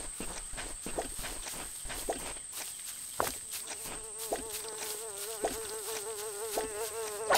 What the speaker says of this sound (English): That buzzing noise is kind of annoying.